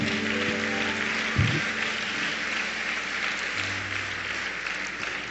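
A church congregation at a Bola de Neve service in Santos applauds steadily for a while, the dense clapping carried over a faint sustained musical hum in the room.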